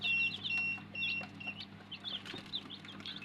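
Tiger breed chickens and chicks peeping and clucking, with brief high chirps repeating across the moment over a steady low hum.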